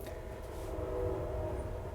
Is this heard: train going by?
yes